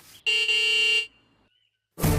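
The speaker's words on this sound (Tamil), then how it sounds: "டாடி ஹார்ன் அடிச்சிட்டே இருக்காரு மம்மி" A car horn gives one loud, sustained honk of nearly a second, followed by silence, then a burst of another sound at the end.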